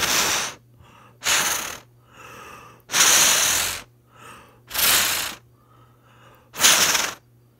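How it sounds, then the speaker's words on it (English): Someone blows hard on a small Snap Circuits toy fan to make it spin, giving six loud, close breathy gusts of half a second to a second each, separated by short pauses with faint intakes between them. "I can blow on the fan so that it spins clockwise, but it will be more difficult to do so."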